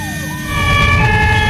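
An ambulance siren wails steadily in German road traffic, its tone holding at a constant pitch and swelling louder partway through over a low rumble of vehicles, with no voices.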